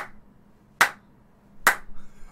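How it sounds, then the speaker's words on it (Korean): Two sharp, isolated hand claps about a second apart, crisp and close in a quiet room during a live esports broadcast, followed by faint background sound. "이 생방송 도중에 이 박수를 치고 있는데"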